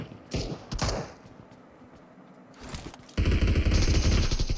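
Gunfire in the battle royale game BGMI: two sharp nearby shots, a quieter lull, then more shots and a dense, sustained burst of rapid firing.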